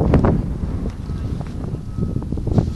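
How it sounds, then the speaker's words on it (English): Wind gusting outdoors during a South Dakota blizzard among snow-covered trees, a steady rough roar with microphone buffeting that swells and eases across the moment, with faint voice-like sounds mixed in. "Nice and breezy."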